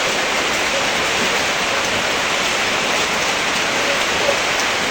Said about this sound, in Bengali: আজকে সারাদিন বৃষ্টি